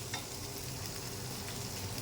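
Onion and garlic paste fries in a pan with a faint, continuous hiss of sizzling oil and no talking.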